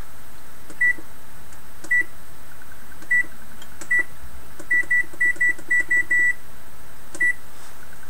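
A microwave oven emits a series of short, clear electronic beeps, some single and some in quick runs, over a faint steady hum with no talking.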